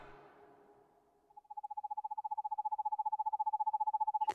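An owl in the horror game Perception gives a long, even run of rapid pulsing hoots on one steady pitch, clear and fairly close, after a soft fading rumble and before a sharp click at the end.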